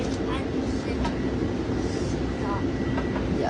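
Passenger train running steadily on rails en route to DC, a continuous loud rumble with faint clicks and rattles from the carriage, heard from inside without talk.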